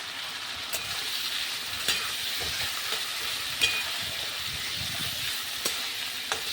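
Taro leaves stir-fry in spiced oil with a constant crackling sizzle, punctuated by the intermittent scrape and knock of a spatula against the pan.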